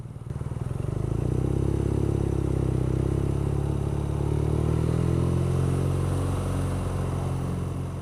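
A 2014 BMW R nineT motorcycle filtering through road traffic, its engine a steady, loud low drone that swells in the first second and holds with rumble and wind noise throughout.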